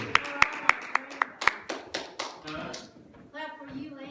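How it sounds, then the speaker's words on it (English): A church congregation claps in a short run of sharp, evenly spaced claps that thin out and fade, followed by a brief voice at the end. "Clap for you, Lynn, and we didn't clap for County Bob"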